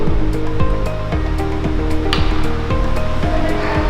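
Distilled water pours and splashes steadily while laboratory glassware is rinsed, a loud continuous rushing wash with no voices over it.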